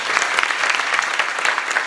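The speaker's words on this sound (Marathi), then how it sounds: "एकदा टाळ्या वाजवा त्यांच्यासाठी" A kirtan audience applauding the festival committee, dense continuous clapping from many hands filling the hall, loud and steady with no pause.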